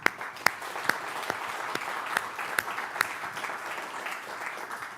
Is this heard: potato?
no